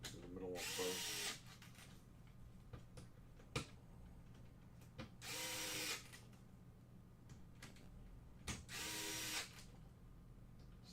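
A power drill drives screws into an Xbox 360 Slim plastic case in three loud whirring bursts, each about a second long, separated by clicks and handling noise over a steady low background hum.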